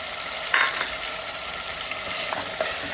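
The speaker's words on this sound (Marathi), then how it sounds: "टोमॅटोची पेस्ट, कांदा टोमॅटोची पेस्ट टाकायची, मटण टाकायचं" Mutton frying in a pan with onion and tomato paste, a steady bright sizzle with a few scraping stirs, close up and with no talking.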